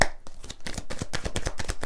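Tarot cards are shuffled by hand in a quick run of crisp, riffling slaps and flutters, close and fairly soft, with no talking.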